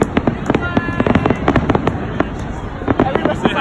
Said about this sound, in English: I've never seen fireworks like these.